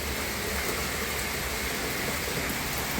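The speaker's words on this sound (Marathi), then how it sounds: "खूप मोठा पाऊस यायला लागला" Cloudburst rain pours down in a dense, unbroken roar, drumming steadily on surfaces nearby.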